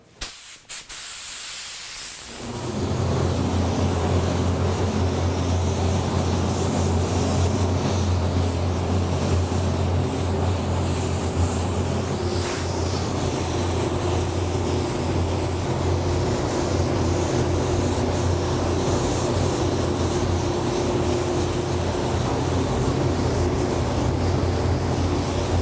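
Spray gun spraying Wicked opaque red paint: after a brief start, a loud continuous hiss runs unbroken and steady with a low steady hum underneath, close up and without talk.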